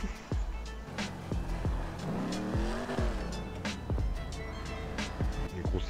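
Big-engine car in GTA 5, a Vigero, revving and driving with tire squeals and skids, engine pitch rising and falling through rapid shifts, with occasional sharp impact thumps.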